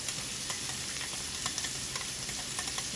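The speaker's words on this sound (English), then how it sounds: "And you just mix that up" A small whisk stirs cornstarch and water together in a little bowl, a quick run of soft clicking and swishing strokes under a steady background hiss from food frying in a wok nearby.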